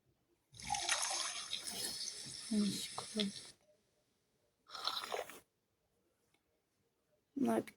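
Splashing and pouring water as a character bathes in Toca Life World, coming in a few separate bursts with quiet gaps between, while a person talks over parts of it.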